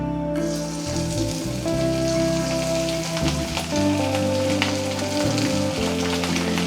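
Chicken pieces drop into hot refined oil and fry with a loud, dense sizzle and crackle that starts abruptly and carries on steadily, close up and without speech.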